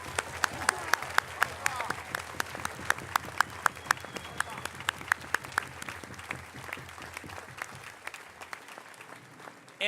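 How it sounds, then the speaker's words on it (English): An outdoor Fourth of July crowd at the National Archives claps for service members and veterans, a sustained round of applause with distinct individual claps standing out near the mic, fairly soft overall with faint voices mixed in. "a round of applause to all of you."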